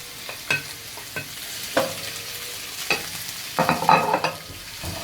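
Ingredients heating in a pan of oil in a home kitchen, with soft intermittent sizzling, a few utensil scrapes and stirring clatters, and a brief louder burst of frying near the end; no talking.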